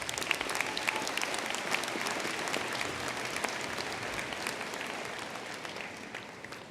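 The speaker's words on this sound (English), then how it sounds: "Let's give the staff a round of applause as well." A large audience at a university fall commencement ceremony applauds the staff, a steady, dense wash of clapping that holds at an even level throughout with no voices over it.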